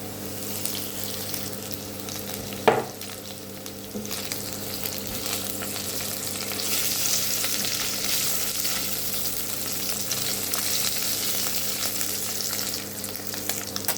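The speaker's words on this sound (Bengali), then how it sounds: "দিয়ে দেবো এখন টাকি মাছ" Taki fish fry in a pan with a continuous quiet sizzle, one sharp clink early on, the hiss growing slightly fuller as cooking goes on.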